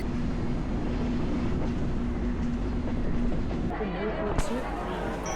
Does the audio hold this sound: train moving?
yes